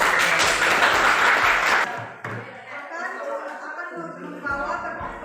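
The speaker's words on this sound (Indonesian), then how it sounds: "kita beri aplaus" Audience in a geography class session breaks into loud, dense applause that lasts under two seconds and stops abruptly, followed by quieter room sound and a voice speaking.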